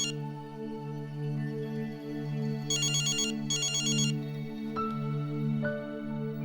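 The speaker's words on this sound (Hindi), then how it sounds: "रज्जो, रज्जो, फोन में नहीं उठाती" A telephone rings unanswered in a Pakistani TV drama scene, giving two short bursts of trilling rings over a steady, droning music bed.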